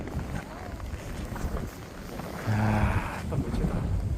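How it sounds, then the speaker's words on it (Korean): Strong winter wind roars across the snowy, rime-frosted summit of Deogyusan during a cold wave, a steady broadband gusting that swells louder about halfway through, with low rumbling buffeting on the microphone. "한파에 능산 상고대 계속 바람 부네요."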